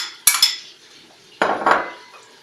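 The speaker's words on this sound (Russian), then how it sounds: "мы кладем туда морковку." Carrots tipped into a pot while cooking Kyrgyz plov: two brief bursts of clattering and clinking, one early and one after a pause, close and fairly loud, with no talk.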